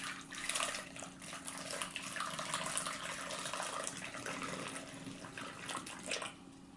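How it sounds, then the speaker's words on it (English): Warm water, about a cup, is poured through a funnel into a glass bottle, giving a continuous soft splashing and gurgling stream that stays fairly quiet throughout. "you can pour it into the funnel."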